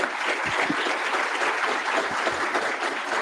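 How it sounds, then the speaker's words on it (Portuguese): Steady applause from a crowd, dense clapping that holds at an even level for a few seconds with no voices over it. "uma salva de palmas para as duas"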